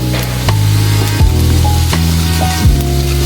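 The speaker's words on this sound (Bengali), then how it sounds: "হালকা করে একটু কালো জিরাটা ভেজে নিব" Black cumin seeds frying lightly in hot oil, a loud, dense sizzle right up close with a few sharp knocks and scrapes of a spoon stirring the pan.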